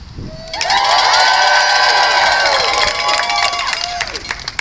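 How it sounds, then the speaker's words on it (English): Crowd at an outdoor transgender rights rally cheering and shouting, a loud sustained roar of many voices that swells quickly and holds for several seconds before easing slightly. "Please give a cheer for the people who make Jenny possible"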